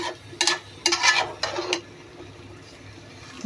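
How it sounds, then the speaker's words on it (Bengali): Metal lid set onto a cooking pot on a stove: a few short, bright clinks and scrapes close by over about a second and a half, followed by a quiet, low background hiss. "এখন আমি ঢাকনা দিয়ে দিব"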